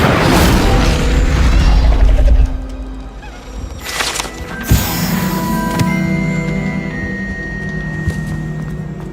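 Incendio fire spell blasting in Hogwarts Legacy, a loud close roaring burst of fire that cuts off sharply, then crackles and thuds over a rumbling game background.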